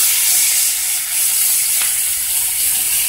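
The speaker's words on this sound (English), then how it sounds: "I'm adding half of an onion and maybe 4 cloves of garlic." Chopped onion and garlic sizzle steadily in a hot pan, a loud, even crackling hiss that holds constant throughout with a single brief click midway.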